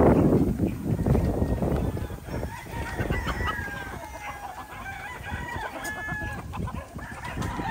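On a Filipino poultry farm at feeding time, a flock of chickens clucks busily and continuously while nearby birds squawk and call, with feed and background scuffling noise throughout.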